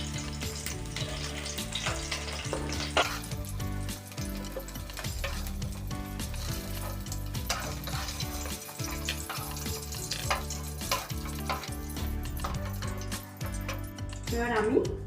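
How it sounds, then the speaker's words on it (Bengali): Drumstick (sajne danta) pieces fry lightly in oil for shukto, a continuous crackling sizzle with occasional utensil clinks, steady and close beneath background music. "সজনে ডাঁটাটা আমি বেশি লাল করে ভাজবো না, হালকা করে ভেজে নেব।"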